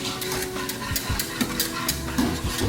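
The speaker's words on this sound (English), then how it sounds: "boiling hard now, so we're gonna whisk it" A whisk beats rapidly against a pot of hard-boiling liquid for a beer cheese dip, producing a busy, continuous scraping and clattering over bubbling and sizzling, close and steady throughout.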